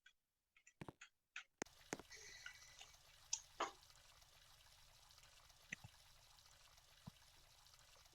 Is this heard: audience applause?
no